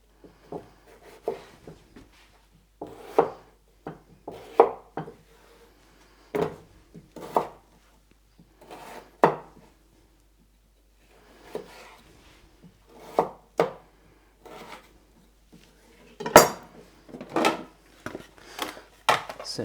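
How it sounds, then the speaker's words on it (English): A knife chops a potato into wedges on a cutting board, giving a series of distinct, close thuds and slicing crunches at an irregular pace, with short pauses between cuts and no talking. "I'm going to take this potato and just cut that into wedges."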